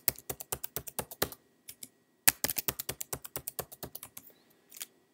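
Keys clatter on a computer keyboard as a password is typed during a text-based CentOS 7 Linux install, a quick run of close, crisp taps, a brief pause, then a second burst that trails off.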